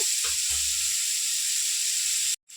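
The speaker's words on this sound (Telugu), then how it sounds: "ఒక ఆనియన్ పచ్చిమిర్చి రెండు ఇప్పుడు వేసేసి ఫ్రై చేసేద్దాం" Onions and green chilies frying in a pan give a steady, even hiss of oil sizzling throughout, with a few soft low knocks underneath before it cuts off abruptly at the end.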